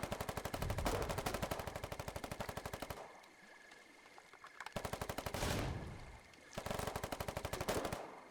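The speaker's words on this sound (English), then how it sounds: "You can see the amount of grenades coming in." Dense bursts of rapid automatic gunfire rattle in a video-game battle over a contested bridge in Foxhole, with grenades in play. The fire breaks off twice for short lulls before resuming just as loud, with no voices.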